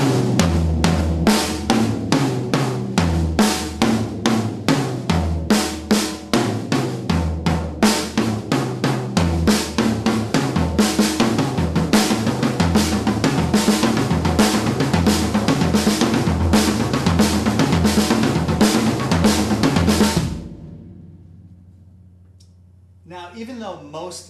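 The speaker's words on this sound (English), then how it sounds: "each single stroke is on a different drum, and the 2 double strokes are on the same drum" Rapid paradiddle drum strokes move steadily around the kit, each single stroke on a different drum and the double strokes on one drum, loud and close, for about twenty seconds before stopping and ringing out.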